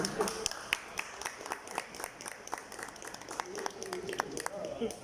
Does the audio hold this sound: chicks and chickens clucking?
no